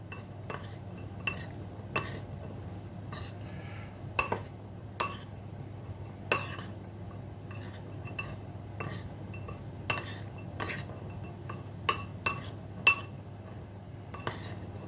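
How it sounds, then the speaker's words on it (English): A spoon clinks against a bowl while raisins are stirred into a tablespoon of flour to coat them, sharp irregular taps of utensil on dish repeating over quiet background, close and fairly soft. "I'm going to mix this up. Try to coat the raisins with the flour."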